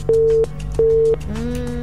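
A telephone busy tone sounds after a phone-in call to a talk show drops, two loud, even beeps with short gaps between them, followed by a softer lingering tone.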